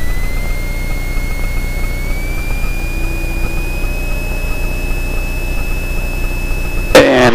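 An Extra 300L aerobatic plane's engine holds a steady loud drone through a ground run-up, with a rising whine as power comes up toward 1700 RPM, and a brief clatter right at the end.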